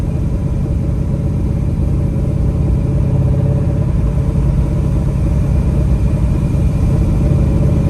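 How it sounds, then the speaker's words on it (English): A Perana Zagato Z-One's exhaust rumbles loud and steady throughout, a deep continuous engine drone with no talking over it. "The exhaust sounds great though. I mean, if you like loud and brutal."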